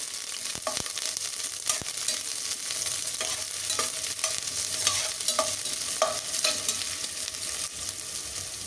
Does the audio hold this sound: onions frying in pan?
yes